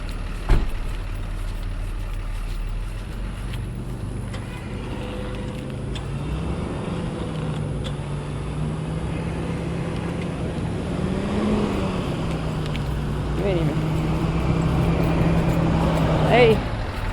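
A stuck box truck's engine idles and is given gas, rising into a few modest revs with a low, wavering hum, moderately close under outdoor background noise.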